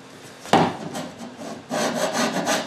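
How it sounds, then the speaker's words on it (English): A chisel scrapes lightly across a wooden surface while building a model, giving a few soft rasping strokes, close and fairly loud, with no talk. "kind of lightly scraped like this."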